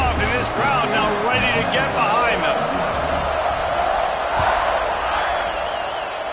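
A packed college football stadium crowd roars continuously at a Minnesota at Notre Dame game just after a kickoff, loud and unbroken with scattered shouts in the wash.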